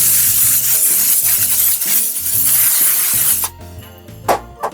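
A sustained hiss of cooking spray being sprayed onto a parchment-lined baking pan, then stopping, followed by a few light clinks and handling sounds.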